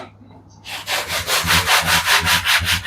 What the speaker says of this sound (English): And this stuff sands super easy.